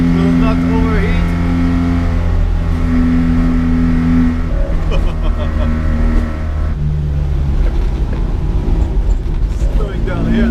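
A 1980 Mitsubishi Minica, a small water-cooled kei car, drones steadily in third gear while slowing a little, its buzzy engine note continuous and close, with someone talking over it throughout.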